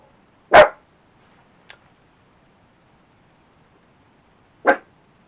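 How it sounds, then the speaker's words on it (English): Outside, a dog gives two sharp, separate barks a few seconds apart, with a faint tick in between and quiet room tone otherwise. "heard a dog barking outside"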